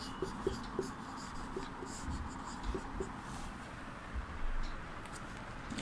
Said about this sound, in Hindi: इसको हम लोग यहीं पर लिख देते हैं।